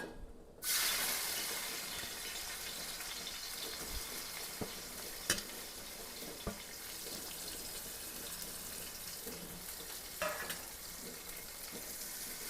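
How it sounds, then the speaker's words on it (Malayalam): Sliced onions frying in a pan for chicken dum biryani give a continuous, close sizzle; a few sharp utensil clicks and scrapes break in, and no one speaks. "കുറച്ച് സവാള ആദ്യം വറുത്ത് പോരാം"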